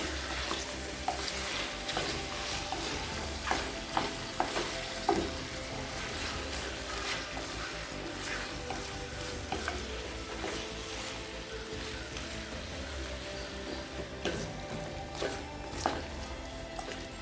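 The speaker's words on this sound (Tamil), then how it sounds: "இப்போ சிக்கன் சேர்த்துட்டு நல்லா வதக்கிக்கலாம்." Steady sizzling of chicken sautéing in a pan for pepper chicken, with repeated scraping and stirring clinks, close and continuous throughout, with no talking.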